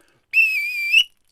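A single sharp referee's whistle blast signals the start of a ComedySportz improv match, bright and steady for just under a second, loud and alone.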